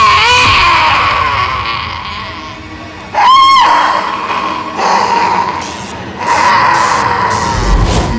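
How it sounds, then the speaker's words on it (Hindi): Loud, shrill ghostly screams ring out in a Hindi CID crime drama, sustained wails with a sharp rising shriek partway through, set over eerie background music with no talking. "चिल्लाने की आवाज सुनी?"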